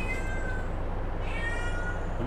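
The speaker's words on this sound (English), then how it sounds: "I wish that goddamn cat shut up." A cat in a farming simulator video game meows twice, two drawn-out whiny cries in quick succession over a steady background hum.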